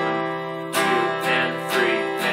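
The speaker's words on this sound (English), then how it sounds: "Those are even eighth notes." Even eighth notes played on a sustained harmonic instrument, steady evenly spaced note changes with bright attacks, alone and moderately loud.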